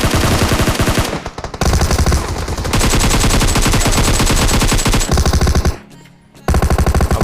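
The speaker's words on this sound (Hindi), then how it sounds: "अब इतने में एक शॉट मुझे पीछे से भी आता है" Rapid automatic gunfire from a battle royale video game, loud and close, coming in long repeated bursts with brief pauses between volleys and no talk.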